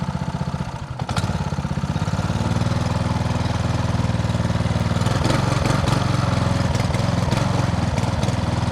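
A homemade outboard motor with a 1-liter fuel tank runs at a dock, its close, loud, steady putting drone faltering briefly near the start, then settling into an even chugging idle.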